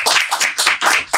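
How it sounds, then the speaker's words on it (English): Loud, close audience applause in dense bursts of clapping that swell and dip over about a second, with no talk on top. "we give them a round of applause, please"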